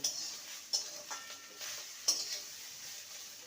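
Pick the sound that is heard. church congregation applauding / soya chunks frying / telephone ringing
soya chunks frying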